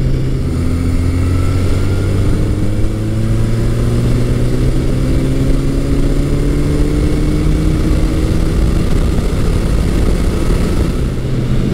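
A Yamaha FJ1200 or Suzuki GS1100E superbike engine accelerating hard, its pitch climbing smoothly and steadily as it pulls through the revs, loud and close throughout, with no voices.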